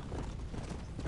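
A horse gallops in the video game Red Dead Redemption: Undead Nightmare, rapid steady hoofbeats thudding continuously and fairly close, with no talk over them.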